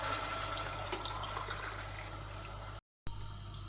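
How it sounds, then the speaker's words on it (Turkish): Water is poured into a pot of roasted tomato paste while making tarhana soup. It gives a continuous close-up pouring wash that cuts off briefly near the end and then resumes. "Kavrulan salçalarımın üzerine suyunu ilave edeceğim."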